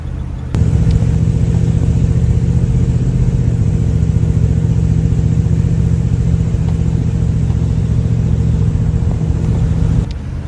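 A 1957 Chevy Bel Air two-door Sport Coupe restomod idles after starting, a loud, steady low engine rumble that holds evenly for about ten seconds, close up with no talking.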